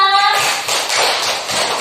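A classroom of schoolchildren applauds in a short, steady burst of clapping that follows a brief voice and lasts under two seconds.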